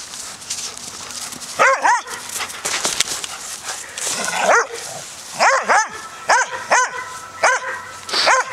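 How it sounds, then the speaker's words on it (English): A dog indoors at home barks repeatedly up close, loud sharp barks in an irregular series with short whines between, and a voice briefly in the background. "what are you barking at?"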